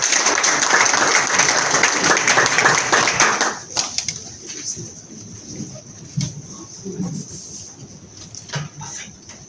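An audience claps steadily at the opening ceremony of an international literature festival in Dakar, the dense applause fading out after a few seconds into scattered claps and room noise.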